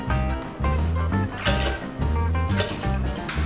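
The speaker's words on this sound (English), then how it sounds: "And then 2 ounces of our dark rum." Dark rum is poured from a bottle into a drink, with repeated glugging pulses of liquid close by, steady and fairly loud.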